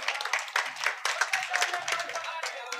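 An audience at an Urdu mushaira gives a burst of loud applause, a dense patter of many hands clapping close by with a few sharper claps standing out.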